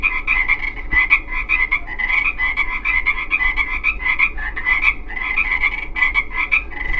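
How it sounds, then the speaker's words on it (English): Frogs croak in a steady, close chorus, with rapid pulsing calls repeating without a break from start to finish. "Listen to those frogs."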